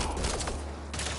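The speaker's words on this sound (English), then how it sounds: "They shot him." Rapid bursts of gunfire in the sci-fi video game Mass Effect Andromeda, a dense, loud volley of shots filling the whole short moment with no gap.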